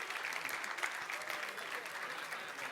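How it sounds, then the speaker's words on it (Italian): An audience applauds steadily at an awards ceremony, a dense even patter of many hands clapping at moderate volume with no break. "Intanto direi di fargli nuovamente un grandissimo applauso perché è tutto meritato."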